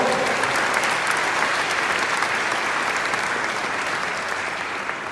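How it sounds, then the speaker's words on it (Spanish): Audience applause fills a church or parish gathering led by a priest: steady, dense clapping from many hands, loud and close, holding for about five seconds and easing slightly at the end. "Démosles un aplauso a ellos"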